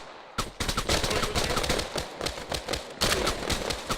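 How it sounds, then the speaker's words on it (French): Gunfire in the ARMA III video game: dense, loud, continuous rattling shots and bursts fill the whole stretch, close and overlapping, with a sharper volley partway through. "sécurité c'est vite dit, on se prend quand même des tirs"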